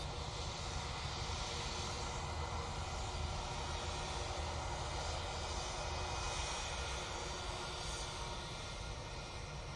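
A jet airliner landing at Manchester Airport roars steadily and loudly throughout, a broad sustained engine rumble with wind noise, heard from a plane-spotting position with no voices over it.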